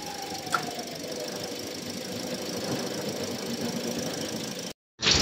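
Engine of a 2023 Toyota Veloz idling steadily at close range to warm its CVT transmission fluid, a continuous even hum with faint mechanical ticking, cut off briefly near the end.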